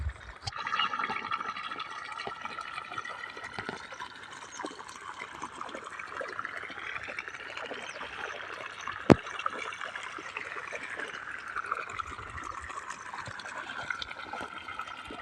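Irrigation water runs through a channel in a village cotton and maize field, giving a faint, continuous rushing and trickling wash that stays fairly even throughout.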